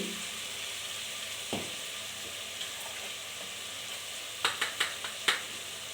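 Chicken sizzles steadily in a hot pan for a chicken sukha, a soft continuous frying hiss with a few scattered taps, then a quick cluster of clinks and scrapes from stirring near the end.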